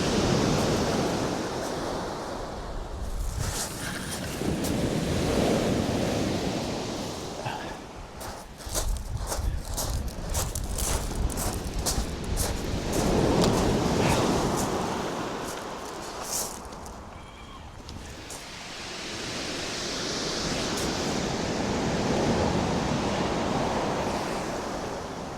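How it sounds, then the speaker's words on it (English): Big ocean waves surging and breaking on the shingle shore at Cley next the Sea, a continuous broad roar that swells and fades in long cycles, loud and close, with no talking. "There's big waves coming in now."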